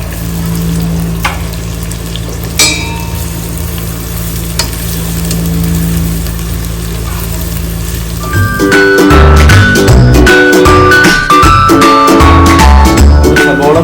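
Sliced onions fry in hot oil for a Palakkad-style chicken dum biryani, giving a steady, loud sizzle for several seconds before busier, clattering tonal sounds take over in the second half.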